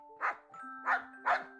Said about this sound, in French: Sully, le chien de la famille, l'accueille avec joie.